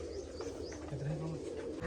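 Pigeons cooing softly close by, a short low murmuring coo over faint background noise.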